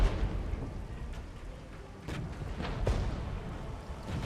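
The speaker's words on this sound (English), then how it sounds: "And we're going to arty strike these." Artillery strike in the real-time strategy game Regiments: a run of low, distant rumbling booms and thuds with a few sharper impacts, continuous and fairly quiet, without speech.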